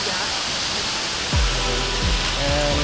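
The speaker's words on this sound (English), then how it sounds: "Sida Waterfalls, yes?" Sida Waterfall in Thailand rushing as a steady, dense hiss of falling water throughout, with a low engine-like drone appearing partway through.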